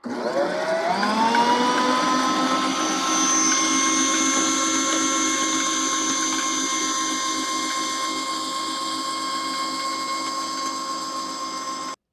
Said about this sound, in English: You're going to beat the meringue until stiff peaks form.